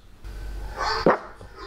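A dog gives a single short bark against a low background hum, brief and fairly close.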